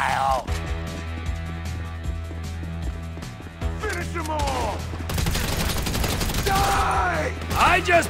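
Heavy gunfire in a GTA 5 firefight, rapid bursts and volleys of shots crackling continuously under game music, with voices shouting in between.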